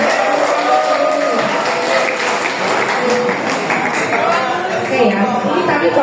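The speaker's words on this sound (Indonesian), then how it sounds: "Oke, tepuk tangan buat keberaniannya." Applause rises from an audience at an anti-smoking and drug awareness outreach talk. It is steady and moderately loud for six seconds, mixed with voices and chatter.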